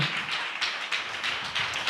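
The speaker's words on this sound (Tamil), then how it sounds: "நல்ல கை தட்டுங்களேன்." An audience at a Tamil-language sermon claps in a quick, fairly regular rhythm of sharp bursts, moderately loud and steady for the whole moment.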